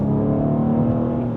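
The engine of a 2025 BMW M2 with a manual gearbox and 473 horsepower drones loud and close after a downshift, a sustained steady engine note rising gently in pitch with no talk over it.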